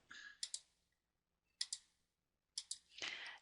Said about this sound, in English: then I type it out.